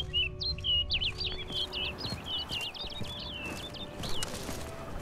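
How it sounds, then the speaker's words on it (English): Repeated bird chirps and tweets in the Blood and Wine expansion of The Witcher 3 sound in a quick series of bright calls over a steady low ambient bed, with faint hoof clops underneath. "Looks like the bird's leading me somewhere."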